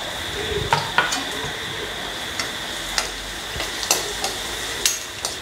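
Garlic and onion fry in overheated oil that is scorching the onion, giving a steady close sizzle broken by sharp ticks and taps from stirring in the pan every second or so.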